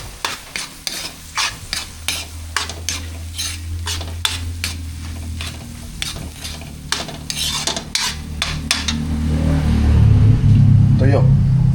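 Tuyo, dried fish, cooking for breakfast, with a spatula scraping and tapping the pan in an uneven rhythm over a steady sizzle, while a low hum swells near the end.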